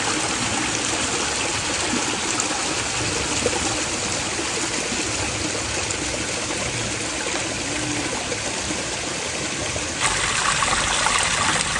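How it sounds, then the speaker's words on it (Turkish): Water rushing at the top of a waterfall, a dense, steady roar of flowing water heard close and loud throughout, with no talk. "Az önce aşağıdan baktığımız şelalenin üst tarafı arkadaşlar."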